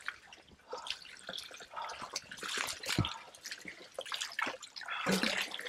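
Water poured into an open container gives a faint, uneven trickle with scattered drips and splashes, steady throughout with no talking over it.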